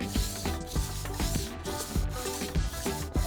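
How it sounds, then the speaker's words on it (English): Acrylic glass edges being rubbed with very fine sandpaper, rhythmic back-and-forth scraping strokes about every half second, close and clear without talk. "I chamfered the edges and gave them the final touch with very fine sandpaper"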